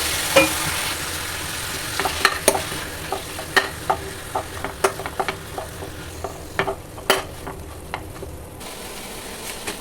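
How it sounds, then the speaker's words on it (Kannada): Tomato frying in a spoonful of oil on a stove, a soft steady sizzle broken by a run of sharp spoon taps and scrapes against the pan, close and alone. "ಒಂದು ಸ್ಪೂನ್ ಆಯಿಲ್ ಹಾಕಿದ್ದೀನಿ ಅದಕ್ಕೆ ಇದಿಷ್ಟನ್ನು ಒಂದೇ ಸಲ ಹಾಕ್ತಾ ಹಾಕ್ತಾಯಿದ್ದೀನಿ ಇದನ್ನು ಚೆನ್ನಾಗಿ ಫ್ರೈ ಮಾಡೋಣ"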